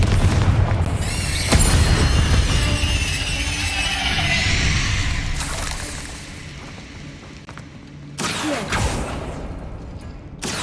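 Fiery spell blasts boom repeatedly in Hogwarts Legacy combat, several loud explosive bursts with crackling debris and game effects, near and without talk.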